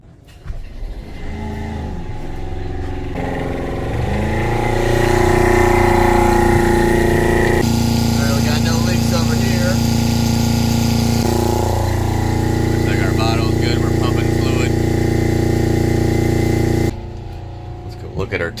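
A boat engine cranks and catches, then runs at a steady loud drone that rises in revs, holds for several seconds and cuts off abruptly, at a marina.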